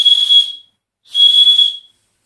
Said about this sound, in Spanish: Es un silbato